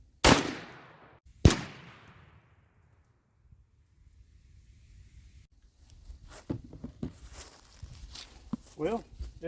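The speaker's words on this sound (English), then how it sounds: "Well, it ejected the other one and fed the other one in, but it also seems to have done something to my shotgun because it is not operating properly." Two loud, close blasts from a turkey shotgun firing Winchester Longbeard shells, followed by quiet and then the metallic clacks of the action cycling, with a person speaking over the later handling sounds.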